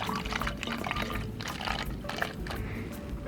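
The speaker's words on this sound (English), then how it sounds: "Then add water." Water pours into a plastic bottle already holding vinegar, a continuous close splashing gurgle with bubbly trickling texture throughout.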